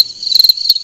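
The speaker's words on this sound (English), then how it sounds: "Gotta have the crickets." Cricket chirping as an inserted sound effect, a bright, close, high trill pulsing in quick bursts across the whole moment with nothing else behind it.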